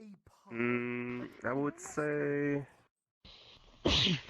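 A single sharp sneeze bursts out near the end, close and loud, after a person speaks in drawn-out voiced phrases.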